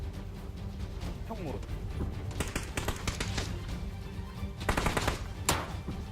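Rapid bursts of automatic gunfire in the PUBG battle royale game, several clusters of shots at moderate loudness, with players talking over the action.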